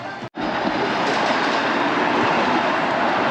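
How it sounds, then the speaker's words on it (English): A train rumbles steadily nearby, a loud continuous roar of wheels and carriage noise after a brief cut at the start. "just got off the train."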